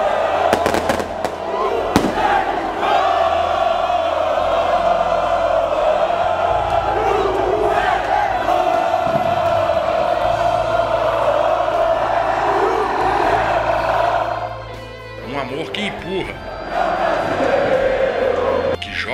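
Cruzeiro football fans celebrate the arrival of the team bus with a loud, continuous crowd roar, chanting and firework bangs throughout, dipping briefly before swelling again.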